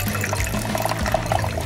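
Water pours steadily into the tank of a homemade LEGO fan cooler, a continuous splashing liquid rush close by that lasts the whole short moment with no talking.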